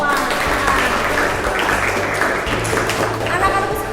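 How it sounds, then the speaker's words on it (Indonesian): Students in an accounting classroom applaud together, a dense continuous patter of clapping lasting a few seconds, with some voices mixed in underneath. "Kita tepuk tangan untuk kita semua."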